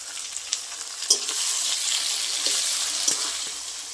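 Tomatoes frying with browned onion, salt and turmeric in a pan make a continuous bright sizzle up close, broken by a few clicks of a spatula against the metal, with no speech.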